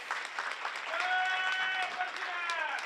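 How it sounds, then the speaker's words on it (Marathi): An audience at a Lord Parshuram birth anniversary celebration in Pisadevi claps steadily, with a voice ringing out over the clapping. "दीपकजी रणनवरेंसाठी मुळापासून मनापासून टाळ्या झाल्या पाहिजेत"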